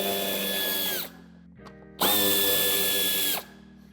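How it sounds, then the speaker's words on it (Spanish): A power driver loosens Torx 25 screws on a 2014–2024 Mercedes-Benz V-Class bumper during a tow hitch fitting: two loud, close bursts of high motor whine, each ending in a falling pitch, separated by a short clicking pause. "tenemos que aflojar los dos tornillos de Torx de 25."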